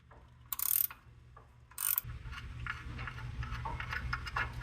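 A ratchet with a long socket clicks in two loud, quick bursts while loosening a 15mm alternator bolt on a 1994 Chevy K1500, followed by softer metallic handling and clatter in the engine bay.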